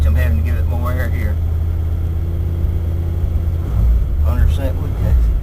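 A wood gas engine running rich on gasoline makes a low, steady rumbling drone throughout, with muffled voices briefly heard over it.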